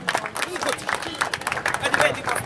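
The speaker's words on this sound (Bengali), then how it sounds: "আরেকবার হাততালি।" An audience at a Bengali stage play event claps in a short ripple of applause, with a loud voice talking over it throughout.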